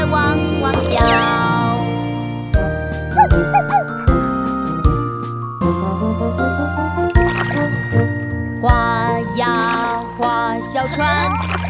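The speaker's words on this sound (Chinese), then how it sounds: "它在汪汪叫。" A small dog barks a few times within a bouncy children's song, its yaps mixed into loud cheerful music with tinkling accompaniment.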